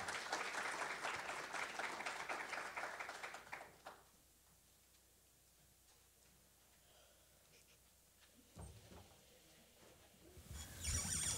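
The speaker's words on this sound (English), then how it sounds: "Can we all give a round of applause to this dynamic panel" An audience applauds a panel at an event on lead in water pipes in Midwest cities: a dense burst of clapping for about four seconds, then near silence with faint shuffles.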